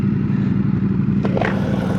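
Ducati Panigale V4 motorcycle engine rumbling steadily up close under a rider at speed, with a low, continuous drone and wind roar, plus a brief scraping clatter near the middle.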